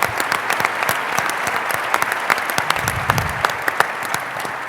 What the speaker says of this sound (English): give a little round of applause to Daryl and Jessica for putting this together